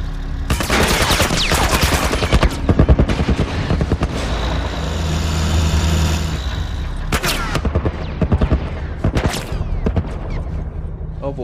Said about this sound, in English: Turret will not give up.